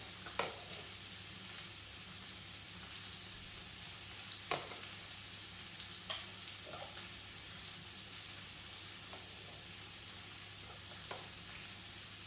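Onion and pumpkin sizzle and fry steadily in a pan, fairly quiet, with a few soft clinks of a utensil now and then.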